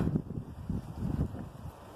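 Low, blustery wind noise rumbles against the microphone in uneven gusts, fairly faint, with no voices, recorded while cycling.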